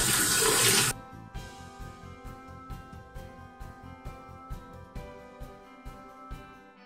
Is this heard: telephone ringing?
no